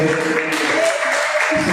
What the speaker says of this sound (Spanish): Una fuerte ofrenda de palmas a Dios